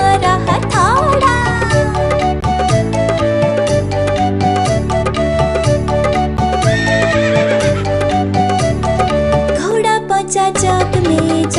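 A children's song about a wooden horse carries neighing and rhythmic clip-clop hoofbeats woven into loud, busy music that plays without pause.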